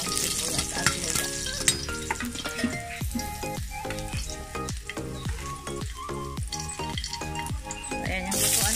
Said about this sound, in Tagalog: Gisa na natin yung mga bawang, sibuyas at luya.